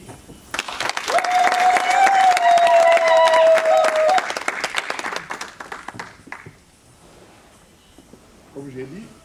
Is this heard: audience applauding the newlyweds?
yes